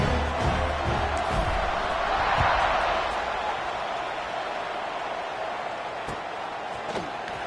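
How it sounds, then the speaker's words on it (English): A football stadium crowd buzzes after a touchdown, a broad roar swelling then settling into a steady murmur, with a few sharp thuds early on. "this crowd is buzzing after that last score"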